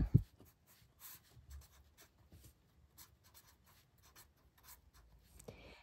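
Marker or chalk strokes writing a formula on a classroom board: a steady series of short, light scratching taps, fairly close and quiet, with no talk over it.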